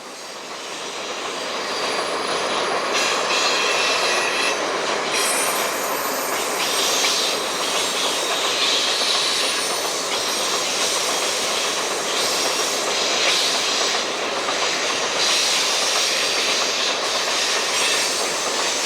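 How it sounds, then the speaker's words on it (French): A DM3 electric locomotive heads a train up a steep gradient on the Malmbanan iron ore line toward Narvik, a loud sustained rumble of engine and rolling wagons building in the first seconds then holding steady, no voices. "Une DM3 grimpe la rampe de Vassijor en tête d'un train en direction de Narvik."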